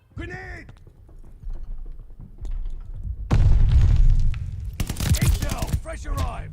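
Bursts of NZ-41 rifle fire in Call of Duty: Vanguard battle royale, sharp rapid volleys loud and close, mixed with game effects while a player talks excitedly over the shots.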